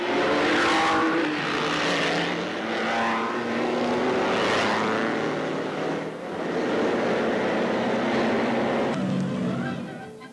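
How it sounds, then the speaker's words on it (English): Alfa Romeo and Maserati racing cars roar away from the start of the first Formula One race, a loud sustained thunder of engines with rising and falling tones and no break. "70 laps lie ahead, 200 miles to come, as they thunder away to a perfect start."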